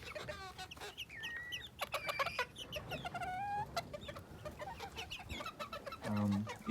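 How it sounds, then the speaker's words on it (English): Bantam chickens from a small homestead flock of twelve with one rooster cluck and squawk close by in a busy overlapping chorus of short calls and trilling notes, ending with a louder burst. "I was lucky enough that out of 12, I had just one rooster."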